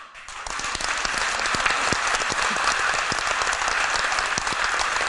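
Audience applause during a Buddhist dharma talk on the bodhisattva precepts, a dense burst of many hands clapping that swells quickly and holds steady and loud to the end.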